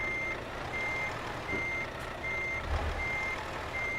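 A truck in a truck-driving video game beeps in reverse while backing a trailer into a parking spot. The beeps are regular and evenly spaced over a low engine hum, with no talking.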